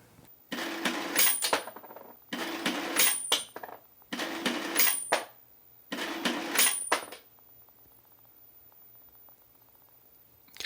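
A coin-flipping machine runs through four bursts of mechanical whirring and clattering, each with a sharp metallic clink near its end, separated by short pauses, then falls to a quiet hum.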